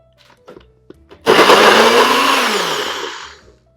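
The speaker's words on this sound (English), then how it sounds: "We're going to blend this till it's smooth, and then we'll add our chia." A blender runs at full power for about two and a half seconds, loud and steady, whirring a turmeric lemon pudding mixture until smooth after a few soft handling clicks.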